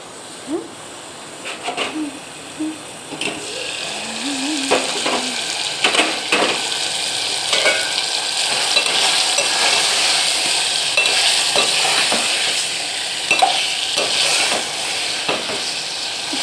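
Chicken simmering in a pot on a home stove, a steady hiss of frying and steam broken by repeated scraping strokes of a spoon stirring, close by, with a few faint background chirps.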